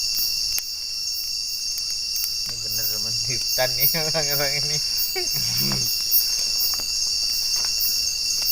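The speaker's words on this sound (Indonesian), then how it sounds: "banyak sekali itu jenis belalang itu, jangkrik, jenis seperti serangga lah, berbunyi nyaring" Crickets chirp loudly and continuously at night in a forest, a high shrill drone that never stops, while someone talks briefly beneath it.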